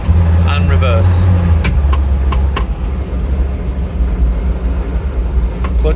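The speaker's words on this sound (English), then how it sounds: "makes that awful noise again. Only with the clutch in." A classic Fiat 500 engine idles loudly and close with the clutch pressed in, a deep rumbling drone carrying an odd mechanical whir, while someone talks over it.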